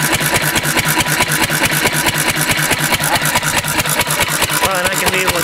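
A gasoline engine running on diesel fuel idles steadily and loudly in a fast, even rhythm of firing pulses, close up, with no voices over it.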